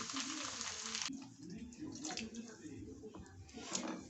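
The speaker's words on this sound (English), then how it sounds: "So we're going to add water for our soup." Water gushes into a pot of beans for soup in a short, loud, hissing pour lasting about a second, followed by quieter clinking kitchen sounds close by.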